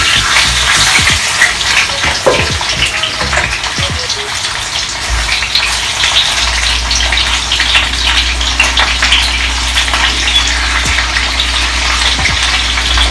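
Freshly cut potatoes sizzle in a hot frying pan beside pan-fried pork chops, a dense, steady crackling hiss that holds loud and even throughout with no talking.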